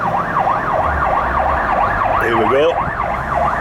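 An ambulance siren wails steadily up and down, close and loud, while a voice speaks briefly over it.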